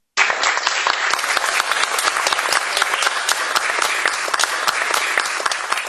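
Shareholders at a company meeting break into loud, sustained applause, dense clapping close by that starts suddenly and holds steady throughout.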